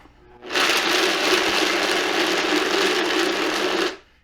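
Kitchen blender grinding whole almonds into almond butter, a loud steady whirring roar that starts abruptly, holds for several seconds, then cuts off.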